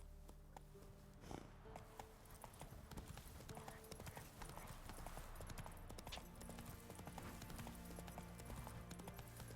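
Roach the horse galloping in Witcher 3, a rapid, steady clip-clop of hooves that runs throughout over game music, with a brief louder rustle near the start.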